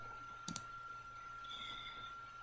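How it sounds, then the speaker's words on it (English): A single computer mouse click as a demo is opened in AFM protein-DNA image analysis software: a sharp double click near the mic, over a steady electrical hum and quiet room tone. "So we can click this demo"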